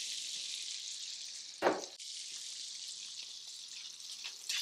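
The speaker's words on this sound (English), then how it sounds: "I'm gonna let that lemon juice, the butter, and the fresh herbs do their job cooking together a little bit" Lemon juice, butter and fresh herbs simmer together in a pan as a sauce for seared salmon, giving a soft, even sizzle with one short clatter of stirring.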